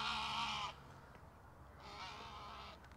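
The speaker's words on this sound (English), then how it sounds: "Sorry, very noisy goose just flying over." A goose honks loudly as it flies over a winter orchard, giving two harsh, noisy bursts of calling separated by a brief quieter gap.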